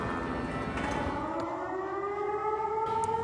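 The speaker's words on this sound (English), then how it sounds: "Sirens blaring across UNC campus and students, again, running for shelter" A civil defense siren wails steadily across a university campus, its tone sliding slowly, heard over a constant background wash, loud and carrying.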